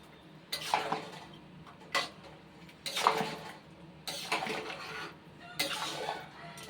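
Shahi garam masala being stirred into mutton paya gravy in a pot, five bursts of scraping and clattering spoon-on-metal strokes spaced about a second apart, quiet between, no voices.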